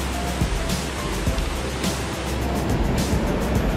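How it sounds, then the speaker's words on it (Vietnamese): Tat Nang waterfall in Van Ho, Son La, with its stream below: a loud, steady broadband roar of rushing water, heard close and continuous. "Từ cái dòng thác ấy nó xẻ ra rất là nhiều nhánh"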